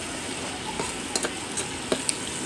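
Garlic and onion sauté in a pan with a soft, steady sizzle, close by, and a few light clicks of a utensil against the pan.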